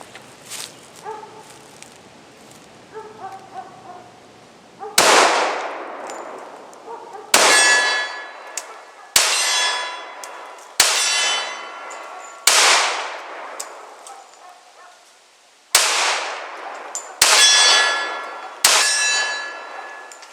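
A Smith and Wesson M&P 45C pistol fires eight separate shots at a steel target about 15 yards away, each sharp crack followed by a ringing metallic clang, spaced irregularly a second or two apart outdoors.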